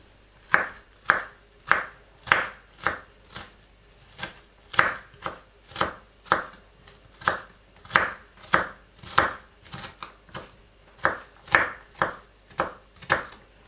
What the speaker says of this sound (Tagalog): Celery po, pinuhin din natin.